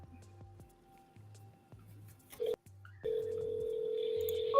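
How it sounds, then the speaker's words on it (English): A telephone rings on a call line, with repeated short electronic pulses at a steady rhythm followed by a sustained high tone, fairly faint and heard alone without talk. "can y'all hear that ringing sound?"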